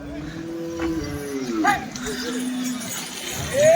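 A bull lows at a busy Chalisgaon cattle market, one long drawn-out moo with a second call rising near the end, close by and loud above a crowd of voices.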